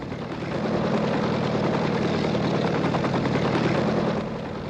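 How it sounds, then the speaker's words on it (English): A helicopter drones steadily overhead while coming into Waterloo Air Terminal, London, rotor thumping loud and continuous throughout with no voices. "Helicopter coming into Waterloo Air Terminal."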